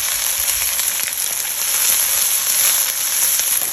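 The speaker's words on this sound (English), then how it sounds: "I'll put those onions in first and start breaking them down a little bit." Onions sizzle steadily in hot oil in a Lodge cast-iron wok set over a Weber charcoal grill, a loud, even frying hiss that holds with no pauses and no voices.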